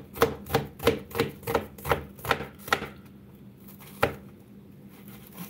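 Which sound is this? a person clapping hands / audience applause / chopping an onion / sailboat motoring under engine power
chopping an onion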